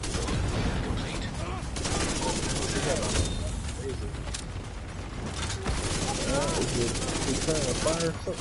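Gunfire in a video game aimed at decoys: rapid mechanical rattling shots and clicking bursts run continuously under a dense game soundscape while people talk over it.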